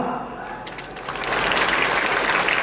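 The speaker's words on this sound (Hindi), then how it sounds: "तालियां बजती रहनी चाहिए।" An audience at a Bihar State Madrasa Education Board event breaks into loud, sustained clapping that swells after a quieter start and keeps going steadily, with some voice and background noise underneath.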